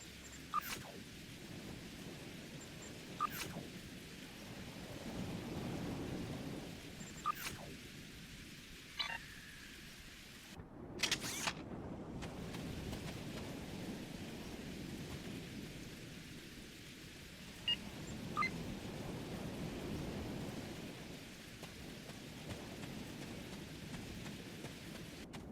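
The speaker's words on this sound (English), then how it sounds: "Wow, rain on Ryza" Steady rain pours throughout on the planet Ryza in Star Trek Online, with deep rolling thunder rumbling underneath and a few sharp cracks and clicks breaking through.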